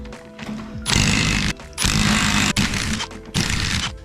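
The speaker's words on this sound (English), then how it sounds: "so grab your 14mm impact." A 14mm impact wrench hammers in loud, close bursts as it removes bolts during steering knuckle replacement on a 2013 Subaru STI. Several rattling runs are split by short pauses, with no speech.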